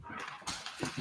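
A dog makes short, soft snuffling whimpers and movement sounds close by, with a few light knocks, over about a second.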